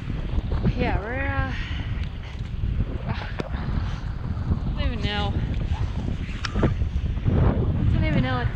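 Strong microburst wind roaring across the microphone aboard a sailboat near West Palm Beach, a loud continuous buffeting with voices talking over it.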